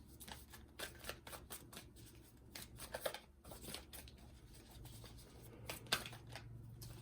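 Tarot cards are shuffled and drawn in a close, steady series of soft riffling and slapping bursts, continuous and quiet.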